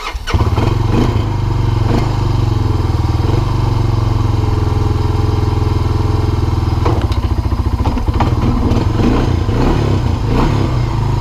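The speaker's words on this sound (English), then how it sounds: "This thing has a sticky clutch, so I always got to kind of put it into gear and then hold up on the shifter and gun it a couple of times" A Honda TRX 300 4x4 ATV with a sticky clutch runs loud and close, its engine droning steadily with several sharp revs and throttle blips near the end, plus some clunks from shifting.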